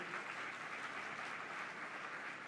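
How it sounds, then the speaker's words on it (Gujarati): Sustained applause from an audience at a Hindu religious assembly during the Shree Bhakti Maha Parv at Vadtal Dham, a dense steady clapping that stays even from start to finish. "એક વખત જોરદાર તાળીઓથી આપણે વધાવશું"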